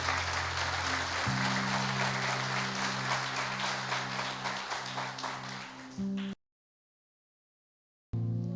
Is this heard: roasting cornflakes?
no